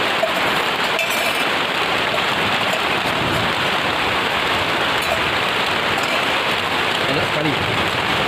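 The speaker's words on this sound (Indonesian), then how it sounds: "Kencang banget hujannya." Heavy rain pours down steadily onto a camping shelter, a dense, constant hiss of drops drumming close by with no letup throughout.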